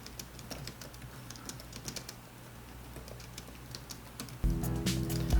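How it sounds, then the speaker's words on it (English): Soft, light key presses on an Acer Nitro 5 (2018) laptop keyboard, a steady patter of quiet clicks; near the end a louder hum or fan-like drone comes in under the typing. "The sound of the keyboard being pressed is very soft and light"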